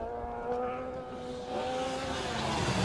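A rally car's engine drones and rises in pitch as it drives past at moderate distance on a special stage, steady and fairly loud.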